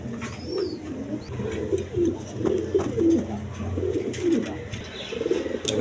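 Pigeons coo steadily at a rural pigeon seller's coops, healthy paired birds with eggs, a low rolling cooing from several birds overlapping continuously, fairly close with faint higher chirps above.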